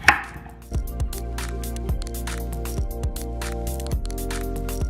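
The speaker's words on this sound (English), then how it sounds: "Just going to cut my potatoes." Skin-on potatoes sliced with a knife, a string of close knocks on a cutting board at a loose, roughly even pace, with a music bed underneath and no talk.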